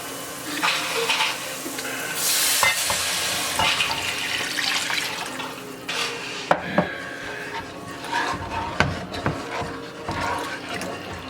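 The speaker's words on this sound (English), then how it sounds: "And now we're going to add our chicken stock." Chicken stock is poured into a pot of onions for chicken paprikash, a splashing, running-liquid rush at first, then quieter sloshing, clinks and stirring knocks from the pot in a home kitchen.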